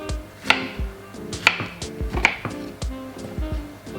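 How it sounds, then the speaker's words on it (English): Knife chopping flat peaches into small pieces on a cutting board, sharp distinct chops in an irregular rhythm, close and fairly quiet, with no talking. "Just cut them up into some small pieces"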